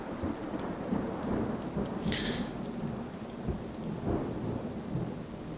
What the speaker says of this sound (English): The pitter-patter of those fat raindrops hitting the trees, hitting the leaves